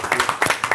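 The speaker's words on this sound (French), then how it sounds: "Merci à toi, on applaudit." Audience clapping in a French cultural gathering, a short burst of several hands striking in quick rhythmic pulses, fairly close and moderately loud with no talk over it.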